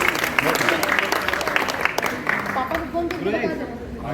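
Applause at a Ramlila rehearsal rises as a dense, steady wash of clapping with voices chattering and talking over it throughout.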